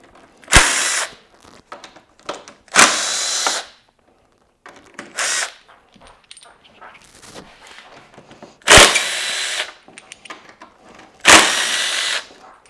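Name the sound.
removing cargo net bolts from a Yamaha T7 motorcycle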